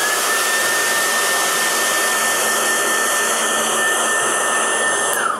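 A hair dryer blows steadily at close range to dry a painted resin piece, its loud, constant whooshing roar with a high motor whine holding unbroken throughout.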